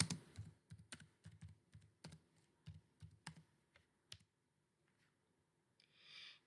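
Keys clatter on a computer keyboard as a command is typed, a quick irregular run of close clicks and taps that ends in a final sharp keystroke and then quiet.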